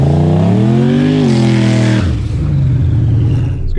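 Tesla Model S Plaid and a 5-second bare-chassis C4 Corvette with an 85mm turbo launching side by side down a freshly prepped drag strip: a loud, rising engine roar with climbing pitch, then an abrupt shift to a lower, rumbling drone as the cars pull away.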